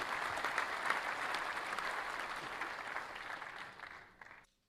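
A podcast studio audience breaks into sustained, even applause to welcome a guest, moderately loud and continuous before cutting off abruptly at the end.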